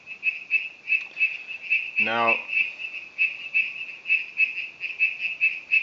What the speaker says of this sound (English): these are little rain frogs that we have in Africa, or in the Elephant Coast here, and we've had quite a bit of rain, so they make quite a noise